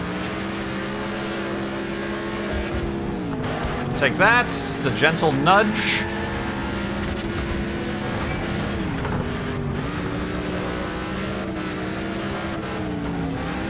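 A light rally car's engine in Next Car Game during a figure-8 race, a steady moderate drone with revving swoops and gear shifts in the middle, under a player talking.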